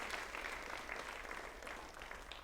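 Sustained applause from an audience at a karate academy black belt graduation, thick and even for the full stretch.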